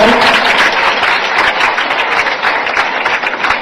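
Loud applause for a guest at a televised Delhi-NCR event, sustained dense clapping from a crowd that stays strong throughout.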